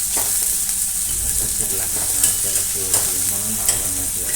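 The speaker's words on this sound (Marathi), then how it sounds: "बारीक चिरलेला कांदा. त्याला चांगलं परतून घेणे." Finely chopped onion sautés in a pan with mustard seeds for masala oats, a continuous close sizzle broken by stirring clatter and light scraping.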